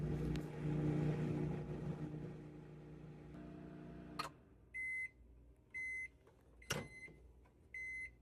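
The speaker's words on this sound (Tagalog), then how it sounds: "nakyat lang tayo para initin natin to sa microwave" A microwave oven reheats Popeyes take-out, its low hum running steadily before stopping with a click, then a string of short electronic beeps sounds in separate bursts, quiet and close.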